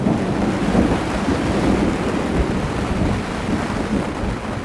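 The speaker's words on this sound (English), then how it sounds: "The wind and the rain is absolutely ridiculous." Thunderstorm at a Colorado tent campsite, with loud, steady broadband roar of wind and heavy rain battering the tent, continuous and close with no talking.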